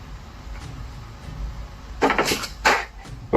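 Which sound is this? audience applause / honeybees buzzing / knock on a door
knock on a door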